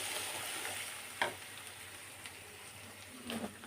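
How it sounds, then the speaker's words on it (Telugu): A spoon stirs fenugreek tomato chutney in a frying pan over a steady low sizzle, with a couple of sharp scraping knocks against the pan standing out from the hiss. "ఒకసారి మంచిగా కలబెట్టుకోవాలి"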